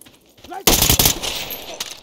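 A single loud gunshot in Ready or Not cracks out after a quiet moment, its sharp blast followed by a rolling decay and a fainter echoing report; a soft voice murmurs just before it.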